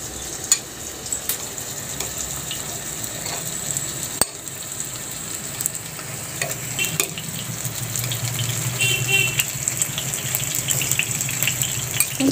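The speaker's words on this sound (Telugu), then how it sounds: "దీంట్లో మనము చికెన్ వేసుకుందాం." Chicken pieces dropped into well-heated oil for chicken fried rice, giving a steady, close sizzle and crackle that swells toward the end, with occasional clinks and no talking.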